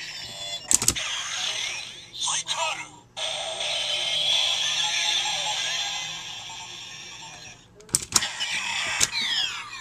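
Kamen Rider W Skull Magnum transformation toy with the Skull and Cyclone memories inserted, giving a loud electronic henshin sound effect with sharp clicks at the start and near the end and a sustained bright synthetic tone between them.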